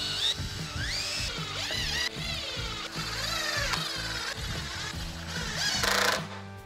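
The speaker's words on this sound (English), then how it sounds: "Just make sure you put a screw in each one." A power drill drives screws into the pre-drilled holes of a 2x4 workbench kit with a shelf, its motor whining and rising and falling in pitch almost nonstop, close and loud.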